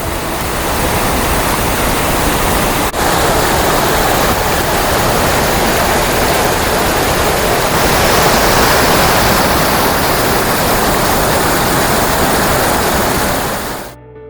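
A steady, loud roar of water pouring over the dam at Drews Lake, the head of a mountain river, continuous and unchanging throughout with no voices.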